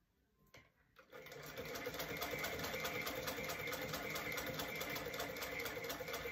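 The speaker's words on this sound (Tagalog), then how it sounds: "This sewing machine was made 1859. Made in England." An English-made sewing machine from 1859 starts up after a few faint clicks and settles into a steady, rapid mechanical rattle with rhythmic clatter, close and fairly loud.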